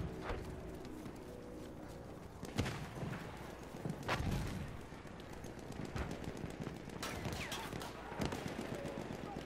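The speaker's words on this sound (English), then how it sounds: "Horses are all around." Horses gallop in the video game Battlefield 1, with rapid clip-clop hoofbeats set among distant gunfire and sharp shots in a busy battle soundscape.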